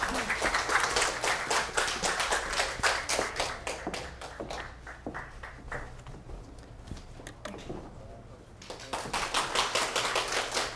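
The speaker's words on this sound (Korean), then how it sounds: "큰 박수로 김수영 선생님을 맞으시기 바랍니다" An audience at a Korea University lecture on women in a classic Chinese novel claps to welcome the speaker, with a dense, steady patter that thins midway and then swells again, fairly close and without talk.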